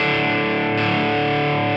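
Electric guitar played through a Tonex amp model with heavy overdrive and distortion, a loud, sustained saturated tone ringing steadily throughout with no talking.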